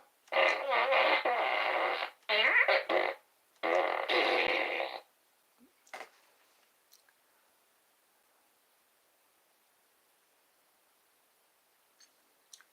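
A loud fart: several long, buzzing, rasping bursts in quick succession, each lasting about a second, followed by a couple of faint trailing puffs and then quiet.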